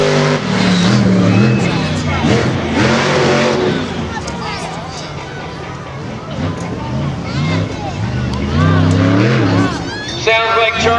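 Monster truck engine roaring at a 2008 monster truck event after being repaired from a breakdown, loud and continuous with revving swells, crowd babble and an announcer talking over it.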